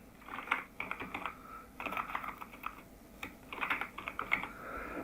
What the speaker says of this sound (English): we can write here like David Wills, for example.